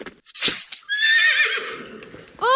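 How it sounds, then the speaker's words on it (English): Horse neighing played as a sound effect during a school annual-day English stage play, a loud close whinny with trembling pitch, then a second shorter neigh at the end after brief gaps. "I hear the horses."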